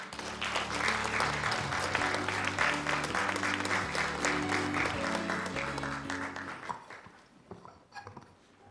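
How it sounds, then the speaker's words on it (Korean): Conference audience applauds to welcome a speaker at a BBB movement tenth-anniversary event, with steady broadband clapping over sustained music-like tones that fades toward the end. "큰 박수로 맞아주시기 바랍니다"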